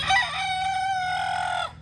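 A rooster crows loudly in a duck and chicken pen, one long drawn-out cock-a-doodle-doo over a steady low farmyard hum, close and clear with no talking.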